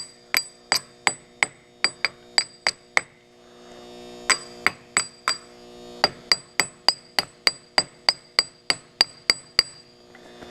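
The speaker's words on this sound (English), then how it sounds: "hit that with a chipping hammer." Chipping hammer striking a fresh steel weld in rapid bursts of sharp metallic clinks, close and loud, with short pauses between volleys over a faint mains hum.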